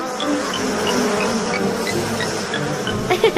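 Cartoon bees in a children's animated story buzz steadily in a busy, close swarm, with short bright chirpy accents near the end and no speech.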